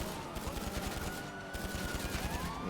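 Machine pistol gunfire in the video game GTA, a fast uninterrupted automatic stream of shots at moderate level, with rattling mechanical detail and no speech.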